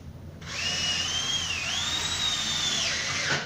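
A power drill whines steadily as it drives the final screw into a gypsum drywall toilet partition, its pitch rising and dipping slightly before cutting off, close and continuous.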